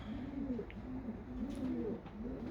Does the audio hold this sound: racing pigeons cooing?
yes